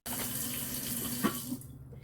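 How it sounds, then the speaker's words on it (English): Warm tap water runs from a kitchen faucet into a container for bread dough, a steady, soft rushing pour that cuts off near the end, with no talking. "I'm just using water from the tap"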